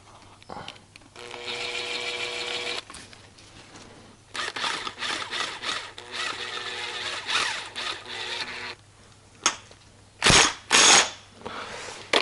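Impact wrench tightening the fork damper rod bolt on a Yamaha Virago motorcycle during a fork seal job, buzzing and rattling in several close bursts of a second or more, with a couple of sharp clacks near the end.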